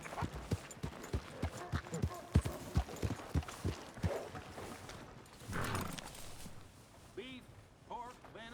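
Horse hooves clip-clop in Red Dead Redemption 2, a steady run of sharp, evenly spaced footfalls that stops partway as a voice talks over the scene, with a few brief animal calls near the end.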